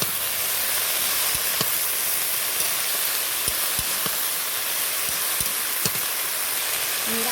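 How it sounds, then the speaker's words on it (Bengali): Vegetables in an open pan, cooked with raw mango and egg, sizzle in a loud, constant hiss, broken by scattered soft clicks and scrapes as they are stirred. "এবার আমি সবজিটাকে ঢাকনাটা খুলে আর একবার নেড়ে চেড়ে দেবো"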